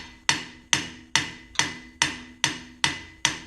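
A hammer strikes a Land Rover Freelander propeller shaft to drive it off during a bearing and viscous unit repair: eight sharp metallic blows at a steady, even pace, each ringing briefly before the next, close and clear with no talking.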